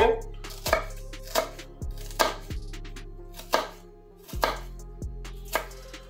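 Cauliflower is chopped with a knife on a board, sharp close knocks at an uneven pace of roughly one per second, each with a short ringing thud.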